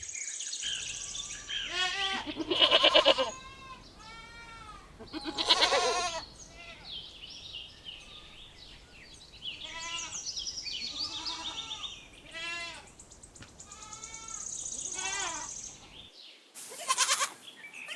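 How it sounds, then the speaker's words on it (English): A goat bleats in a series of wavering, nasal calls spread through the stretch, some loud and near, with faint bird chirps in the background. "Goat."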